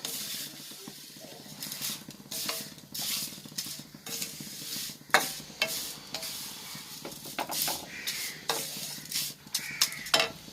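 Vermicelli is dry-roasted in a pan and stirred steadily, with repeated close scrapes and clinks of a spoon over a quiet sizzle that runs throughout with no voices.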